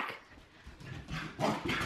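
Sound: corgi dog barking

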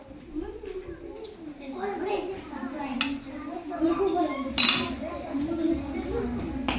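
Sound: spoons clinking

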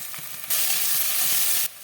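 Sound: stirring fried eggplant mash with ginger, garlic, chili paste

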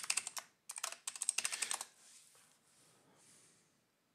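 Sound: typing a password on a computer keyboard

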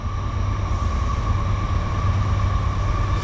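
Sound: freight train with foreign locomotives passing

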